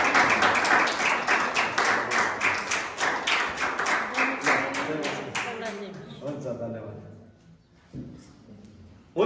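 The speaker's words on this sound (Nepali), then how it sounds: "ताली पड्काउनुहोस्।" Audience clapping at a church inauguration, dense sustained applause that thins out and fades over several seconds, with faint voices underneath near the end.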